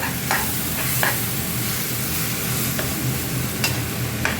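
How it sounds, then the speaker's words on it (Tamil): Food stirred in a hot pan to keep it from sticking, a steady close sizzle with a few short scraping strokes of the spoon against the pan, with no voices. "போட்டு நல்லா கிளறி விடுங்க, அடி பிடிக்காத அளவுக்கு"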